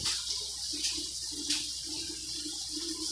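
Tap water runs steadily into a bathroom sink as a face is rinsed off after a charcoal mask, a close continuous hiss with faint splashing and no talking.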